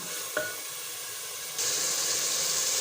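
Peas tossed into a hot pan for a light roasting, with a brief clatter as they land, then a steady, fairly loud sizzle and hiss that rises and holds.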